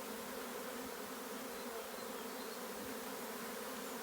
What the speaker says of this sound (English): I'm going to smoke the top anyway just to loosen those bees off a bit